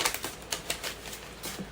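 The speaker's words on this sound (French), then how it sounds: "je vais prendre les ciseaux." Scissors snip through paper and packaging in a series of crisp, close, irregular cuts, with no talking.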